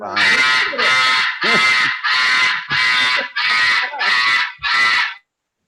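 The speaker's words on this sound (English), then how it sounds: "Someone has a parrot, not a fire alarm." A parrot squawks in eight loud, harsh, alarm-like bursts of nearly equal length, repeating in a steady rhythm close by. Its shrill, strident call closely resembles a fire alarm.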